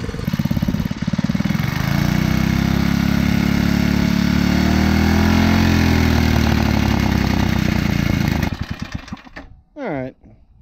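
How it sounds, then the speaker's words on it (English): A tiller's small engine with a badly worn cylinder runs loud and close, its pitch rising and falling as the RPM changes, then cuts out near the end, followed by a brief separate tone. "I'll run at a higher and lower RPM until I get it where I want it."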